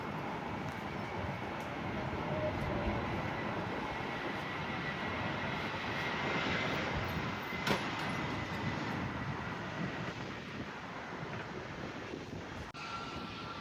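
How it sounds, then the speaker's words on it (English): Air Canada Rouge Airbus A321 Classic airliner on final approach to runway 10, a steady broadband jet roar that holds evenly throughout at moderate distance, with faint rumbling underneath and no talk. "this is Air Canada Rouge 1718 coming in from Toronto Pearson on an A321 Classic"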